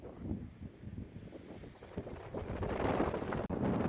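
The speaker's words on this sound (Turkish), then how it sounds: "Yani ben hayatımda böyle bir rüzgar görmedim diyebilirim." Strong wind in Baku buffeting the microphone, a rough, gusty roar that swells and grows louder toward the end, with no one speaking.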